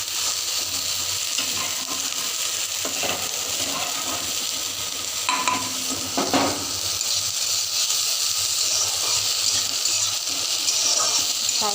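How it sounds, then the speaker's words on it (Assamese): Chopped tomatoes fry on a low flame in a pan, giving a steady, continuous sizzle and hiss close up, broken by a few soft scraping stirs; no one talks. "লো ফ্লেমত ভাজি অলপমান।"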